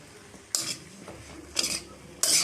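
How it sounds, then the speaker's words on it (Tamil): A spoon stirs masala spices through chopped elephant-foot yam (urilaikilangu) in a pot with no oil. Three distinct scraping stir strokes come at roughly even intervals over a soft, low background. "போட்டதுக்கப்புறமா இது எல்லாமே ஜஸ்ட்டு அப்படியே ஒரே ஒரு மிக்ஸ் பண்ணி வச்சுருங்க."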